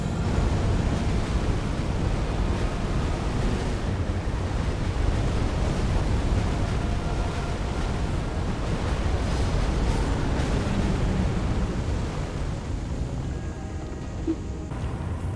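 Meteorite gravity spells crash and explode against the Fire Giant boss in Elden Ring, a dense continuous rumbling roar of impacts and debris that stays loud and steady throughout with no voices.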